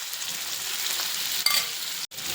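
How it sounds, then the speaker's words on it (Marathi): Soybeans coated in masala fry in hot oil in a wok with a steady, dense sizzle. A brief clink sounds midway, then the sound cuts out for a moment. "तिला एक साईडला पूर्णपणे फ्राय करून घ्या, त्यानंतरच तिला टर्न करायची"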